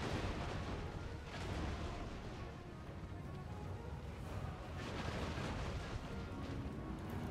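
Ranged units fire continuously in a Warhammer II Total War battle, a dense, steady wash of volleys and booming impacts with no clear gaps, loud and sustained throughout.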